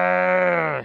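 An elderly man imitates a male goat's bleat with his voice, one long, steady, nasal, wavering call lasting just under a second, close and loud.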